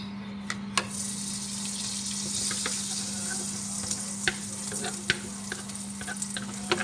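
Beef pieces sizzle and fry in melted butter on a flat tawa pan, a steady close crackle with scattered pops and occasional stirring clicks, with no one talking.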